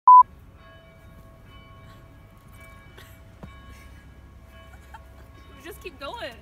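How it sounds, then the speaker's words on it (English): Church bells ring out across Delft at noon, a sustained tonal peal heard moderately distant over city ambience, with chickens or birds chirping near the end. "Listen to all the bells."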